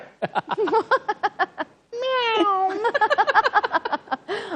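On a cricket talk show, a person repeatedly mimics a cat's meow, a string of quick mewing calls with one drawn-out whining meow in the middle.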